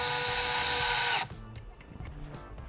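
A power drill drives a drywall screw into a wall, giving a loud, steady whirring whine for just over a second before it cuts off abruptly, followed by faint handling noises.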